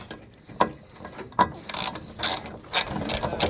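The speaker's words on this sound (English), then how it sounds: "So we're pulling the screws out of the filler neck, so that way it can drop down out of the bed" Screws being backed out of the fuel filler neck on a Mitsubishi pickup during a fuel pump job, heard as a series of close ratcheting clicks and short metallic bursts that grow busier toward the end.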